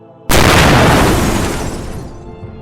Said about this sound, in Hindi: मगर तभी गुफा के द्वार पर जोरदार धमाका हुआ